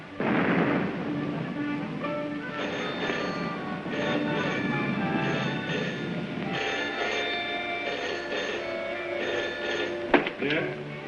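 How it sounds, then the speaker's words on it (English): Distant artillery guns rumble and thud beneath an orchestral film score in a 1930s science-fiction drama, with one sharper crack near the end. "Listen, guns again."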